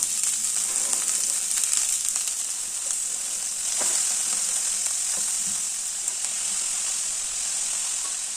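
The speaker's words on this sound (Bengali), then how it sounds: "বাঁধাকপিটা কড়াইতে দিয়ে দিচ্ছি" Cabbage fries in a wok in oil left over from frying potatoes, a steady bright sizzle running loud and close throughout, with a few scrapes of stirring and no talk.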